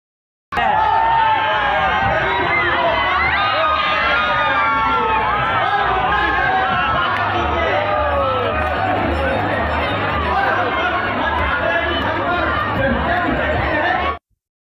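A large crowd packs Puja pandals during the Sharda Trophy prize-giving, a dense roar of chatter, shouts and cheers that holds at full volume throughout.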